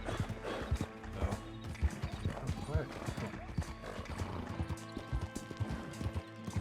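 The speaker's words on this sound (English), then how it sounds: "Rush the horse." Horse in a Western role-play game clip-clopping at a gallop with a rhythmic run of hoofbeats, broken by a neigh or whinny, while talk runs underneath.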